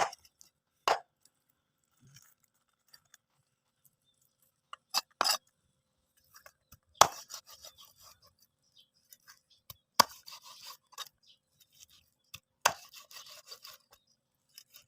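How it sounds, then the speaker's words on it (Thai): A knife chops fish into pieces for Thai sour curry, sharp isolated thwacks on a cutting board spaced a second or two apart in a quiet kitchen. "ไม่หั่นท่อนเลย ก็จะหั่นเป็นชิ้นเป็นชิ้นๆครับ"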